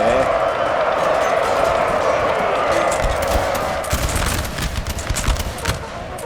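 Musket volleys crackle from massed line infantry in a Napoleon Total War reconstruction of the 1809 Battle of Puerto de Baños, rolling and continuous at a distance, with scattered sharper cracks and a rising din toward the end.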